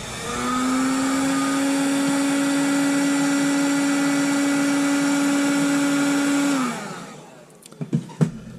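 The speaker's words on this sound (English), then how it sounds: "Hit that with the heat gun real quick." A heat gun blows steadily for several seconds, a loud close whirring hum shrinking heat-shrink tubing over a diode lead on a Bally pinball MPU board, then cuts off, followed by a few light handling clicks.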